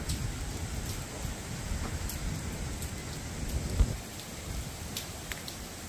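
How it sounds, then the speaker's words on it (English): Steady rain falls on a rural property in cold weather, a soft continuous patter with occasional sharper drops landing nearby, no voices. "The rain is really good, but also very cold"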